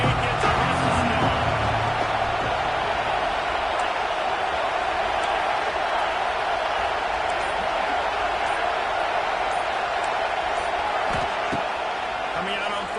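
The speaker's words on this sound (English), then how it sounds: "This crowd ready to make its presence known." A stadium crowd roars at a college football game in the NCAA 26 video game. A steady, dense wash of cheering holds throughout with only a few muffled thumps.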